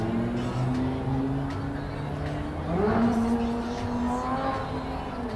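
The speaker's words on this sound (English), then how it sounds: "Now you can hear the Lamborghini." Lamborghini sports car engine out on the Las Vegas Strip, a steady low rumble that swells briefly as the car moves nearby, set against the constant hum of street and crowd noise.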